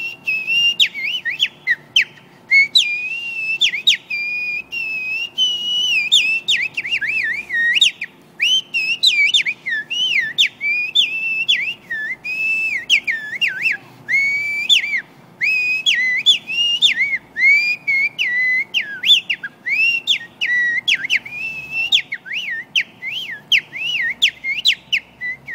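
Bright, high chirps and whistled trills repeat in quick bursts throughout, one songbird singing close by with brief pauses between phrases.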